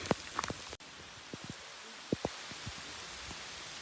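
Rain falls on a hill trek in Araku, heard as faint, scattered drops tapping nearby over a quiet outdoor background, with a few sharper splats standing out.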